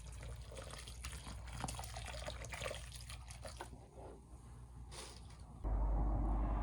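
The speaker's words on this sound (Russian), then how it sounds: "Пролью все теплой водой." Warm water is poured into a planting hole prepared for cucumbers with ash and humus, a soft, faint trickle and splash running steadily, then a louder gush near the end.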